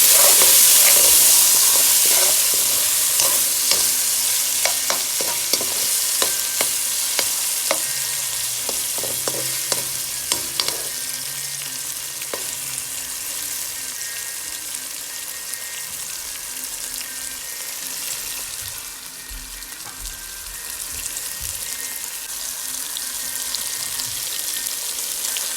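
Tomatoes fry in a pan as they are stirred, a loud steady sizzle with bursts of scraping and clinking from the spoon early on, easing to a softer continuous hiss.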